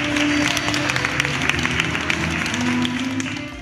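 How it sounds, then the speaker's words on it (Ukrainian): Guests at a Kherson anniversary celebration for couples married fifty and sixty years clap vigorously and continuously, the applause mixed with a steady tone of background music. "Наречених, як і годиться, гості заходу зустрічають бурхливими оплесками."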